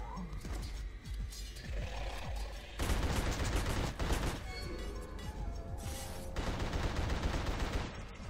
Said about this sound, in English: I thought he was shooting at me for a second.